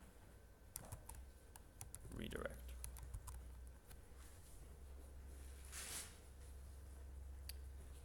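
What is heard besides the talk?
typing on a computer keyboard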